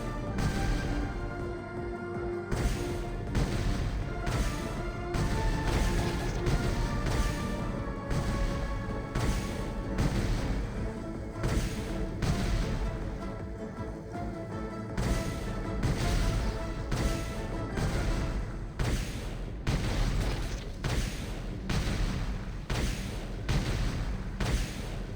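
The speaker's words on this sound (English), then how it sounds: "if we just shoot at it with the cannon regardless?" A cannon firing repeatedly in the video game Genshin Impact, a long run of booming blasts at a steady rhythm over game music, loud and close.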